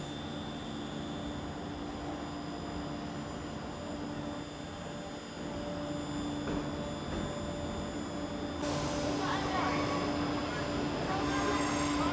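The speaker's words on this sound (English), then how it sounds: "Finally, my train to Manchester arrived" A steady low rumble of a train to Manchester pulling into a UK station, with a constant electrical hum and a rising hiss near the end, distant talk faintly beneath.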